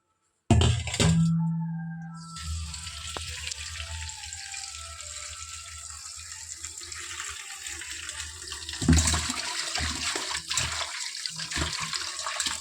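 Tap water runs steadily into a kitchen sink as hibiscus flowers are washed, a continuous close splashing flow that starts abruptly and swells louder near the end, with no talk.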